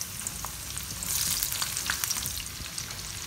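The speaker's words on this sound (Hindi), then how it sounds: "मैंने ऑयल गर्म कर लिया बैगन के भरते के लिए पहले हमें ज़ीरा डालना है इसमें फिर साथ ही हमें ये प्याज ऐड करनी है" Cumin and onion fry in hot oil for baingan bharta, a steady close sizzle with soft crackles and a little stirring.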